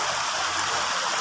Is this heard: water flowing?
yes